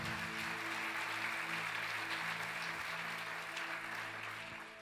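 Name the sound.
applause for the Lord in church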